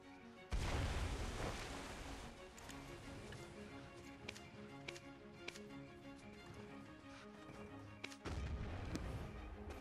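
Cannon shots from the Black Desert Online video game, a loud burst followed by a string of sharp booming reports over a continuous tonal game soundtrack, ending in another dense blast.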